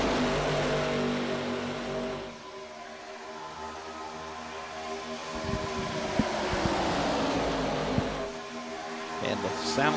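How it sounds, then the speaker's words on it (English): ARCA stock cars in the iRacing game rumble through the tri-oval at Talladega, a loud steady engine drone that dips and swells as the cars pass, with a commentator talking over it. "Sound of those cars as they rumble through the tri-oval, coming back to start finish"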